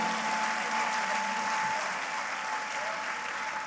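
A church congregation applauding Jesus Christ, dense steady clapping from many hands filling the room at an even level throughout, with faint voices mixed in.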